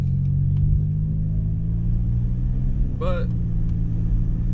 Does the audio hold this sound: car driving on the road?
yes